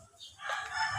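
A rooster crows once, a short faint call that rises and holds, heard alone at a moderate distance.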